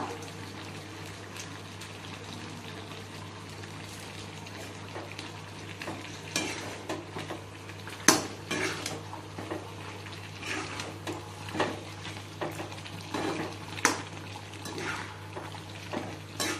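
A spoon stirs chicken gravy with masala and chilli powder in a sizzling pan, giving irregular scraping and clattering strokes over a constant low frying hiss and hum, close up, with a few sharper metallic knocks.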